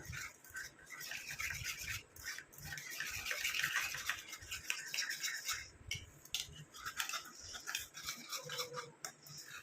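Homemade hair dye paste stirred in a bowl, giving a steady, close, soft scraping and swishing of a spoon working through the thick paste, continuous and quiet with no voices.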